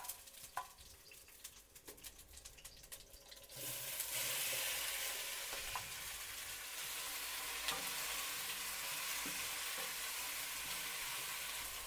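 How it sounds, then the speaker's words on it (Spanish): Tomato, onion and garlic cloves drop into hot oil in a pan and burst into a loud, steady sizzle that keeps going after a quieter opening stretch of scraping and handling. "aquí donde voy a freír el tomate y la cebolla"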